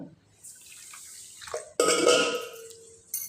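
Water sloshes and pours in a vessel while barnyard millet grains are washed and swirled, with a louder splashing burst partway through, close by and without talk.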